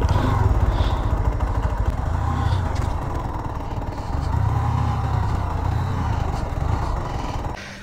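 A Chinese-made motorcycle that is developing problems runs its engine close and loud, with a steady rough throb and slight rises in revs for several seconds, and no talk.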